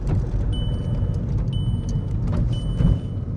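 A 1.6 diesel car drives along with a steady low engine rumble from inside the cabin, while a high electronic beep repeats about once a second.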